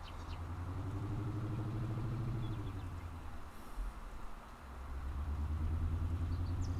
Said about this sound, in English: Yeah, I like this truck. Um, Sounds good, and I hope it's not too loud for you.